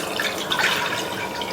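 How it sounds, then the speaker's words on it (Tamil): Water being poured into a pressure cooker holding toor dal, turmeric and asafoetida: a short, soft, continuous trickling splash, faint and close. "1/4 கப் அளவுக்கு தண்ணி சேர்த்திருக்கேன்."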